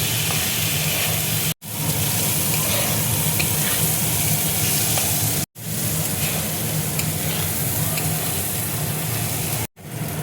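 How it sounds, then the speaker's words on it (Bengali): Gobindobhog rice fries in a kadai with a loud, steady close-up sizzle and the scrape of stirring. The sound runs continuously, broken only by brief sudden cuts. "গোবিন্দভোগ চালটা আমি ভেজে এবার তুলে নেব।"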